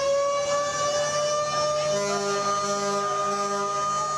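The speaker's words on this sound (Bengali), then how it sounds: "সাইরেন বাজিয়ে সদরঘাট লঞ্চ টার্মিনাল থেকে ছেড়ে যায় একের পর এক লঞ্চ।" Launch sirens sound as passenger launches depart Sadarghat terminal, long steady tonal blasts from more than one horn overlapping, with a lower second tone joining midway, moderately distant.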